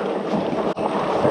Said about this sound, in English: Although the wind gusts are not friendly in general, even more so with fat tire bikes.